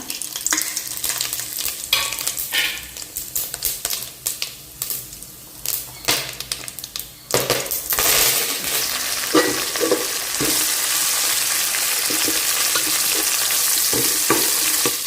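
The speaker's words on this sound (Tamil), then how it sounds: "நெய்யும் ஆயிலும் ஆட் பண்ணதும் எடுத்து வச்சுருக்கிற பட்டை, கிராம்பு, லவங்கத்தை இந்த ஸ்டேஜில் சேர்த்துக்கிறேன்" Cinnamon, cloves and other whole spices hit hot oil and ghee: clinking stirs and scrapes at first, then a loud, steady, close crackling sizzle that holds to the end.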